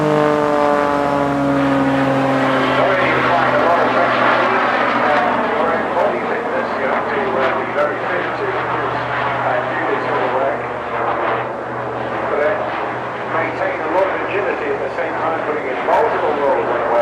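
A Jet Pitts aerobatic biplane flies at the English Riviera Airshow, its engine roaring loudly with a shifting pitch as it picks up speed, while a voice talks over the sound throughout.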